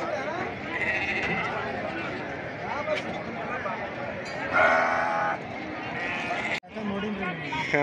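Sheep bleat amid a busy livestock market, with calls rising over constant crowd chatter and talk, one louder burst of bleating standing out near the middle.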